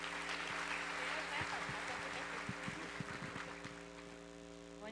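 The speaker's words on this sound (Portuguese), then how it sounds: "Uma salva de palmas para a Thaís." Church audience applause, a soft spread of clapping over a steady electrical hum, fading toward the end as a few voices come through.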